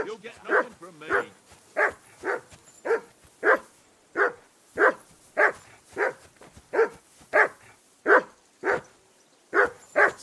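A dog barks repeatedly in Kingdom Come Deliverance 2, about a dozen sharp, evenly spaced barks close by, standing out alone with no talk over them.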